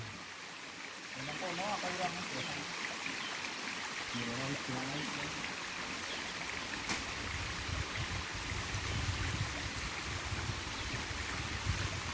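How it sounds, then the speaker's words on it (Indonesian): A river flowing through limestone hills gives a steady, full rushing of water throughout, with faint voices talking over it early on. "Ini salah satu sungai yang ada di perbukitan Kapur. Sungai ini mengalir dari kawasan"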